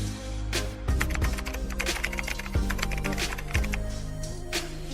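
Fingers type steadily on a computer keyboard, close and clear, with rapid clicking keystrokes over a low background hum and no talking.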